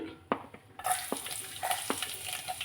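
Garlic drops into hot oil for a quick pickle; after a few taps the pan bursts into a loud, bright sizzle that continues with light stirring clicks.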